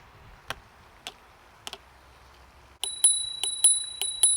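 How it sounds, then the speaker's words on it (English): Bell on a Kugoo Kirin G3 electric scooter rung by thumb, first three single sharp dings spaced apart, then a rapid run of bright ringing strikes, loud and close with no talking. "That's actually a loud bell."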